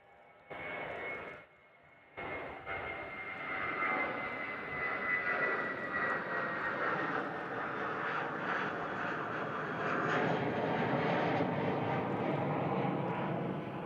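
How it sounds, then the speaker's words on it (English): Airbus A320 taking off from Perth airport on a short hop to Kalgoorlie, its engines swelling from a low rumble into a loud, sustained roar that builds steadily and fills the scene, with no talking over it. "This A320 is about to head off, and they're going to be roaring."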